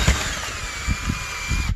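Power drill running at its slowest speed, boring a pilot hole in stucco beside a wrought iron gate. A continuous whining motor hum runs close and steady, with rough grinding pulses from the bit biting into the wall.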